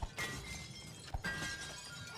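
A sharp shatter from the video game It Takes Two, a sudden crash at the start followed by a second breaking burst about a second later, each with a short glassy ring-out, no talk over it.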